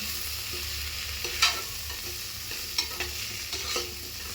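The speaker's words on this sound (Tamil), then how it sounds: "போட்டு நல்லா கலந்து விட்டுக்கலாம்." Vegetables sautéing in a pan with turmeric, salt and sambar powder give a soft continuous sizzle, while a spoon stirs them with several scraping clinks, near and alone.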